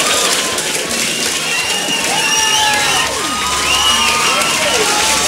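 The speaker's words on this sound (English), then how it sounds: "They clapped for her." Crowd cheering and applause fill a Crash Bandicoot Warped scene, a steady dense roar of clapping and shouting throughout, with a voice talking over it.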